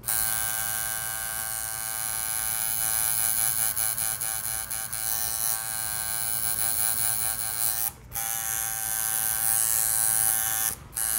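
A rotary tattoo machine runs in a steady, close electric buzz with a constant hum throughout, briefly cutting out twice near the end before resuming.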